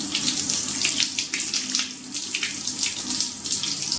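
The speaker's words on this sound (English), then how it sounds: "So I'm gonna wash my face and be right back" Tap water runs into a sink while someone washes their face, a steady close rush broken by irregular splashes and bursts as hands scoop the stream.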